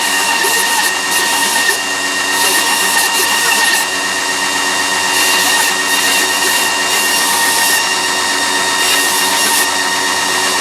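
A steady, high-pitched machine whine runs continuously as a knife blade is polished, with faint variations in pitch and no speech.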